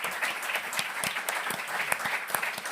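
Repeated applause from a live audience at a panel podcast on the European elections, a steady, moderately loud rattle of many clapping hands with no talking.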